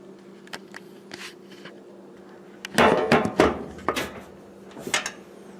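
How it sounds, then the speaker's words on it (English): A heavy hammer set down onto an adze handle during a restoration, landing with a cluster of loud, close wooden knocks and clatter, followed by a few lighter taps. "How about just putting another hammer on top of it?"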